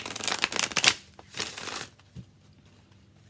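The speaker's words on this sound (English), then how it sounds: "It is a little hard for me to shuffle." A well-worn tarot deck is shuffled close by, with two bursts of papery riffling and a brief soft tap, then near silence.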